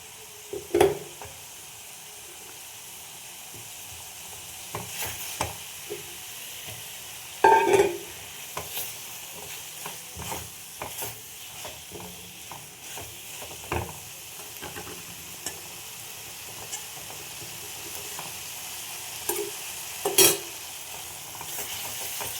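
Fried potatoes go into a pan with a vegetable dish of potato and eggplant and are stirred, giving soft scraping and clinking spoon strokes over a low, steady sizzle, with a sharper clatter near the eighth and twentieth seconds.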